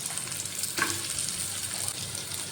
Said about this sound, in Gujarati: તેલમાં આપણે ગાજર સોતે કરશું પહેલાં.